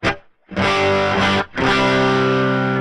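A distorted electric guitar chord rings out loudly through a Line 6 Helix Stadium XL with noise gate and tile reverb, cut off abruptly, then struck again and sustained with a roomy reverb tail.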